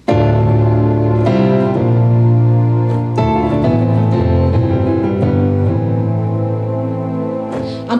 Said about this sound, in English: And on the top keyboard, I have a piano sound.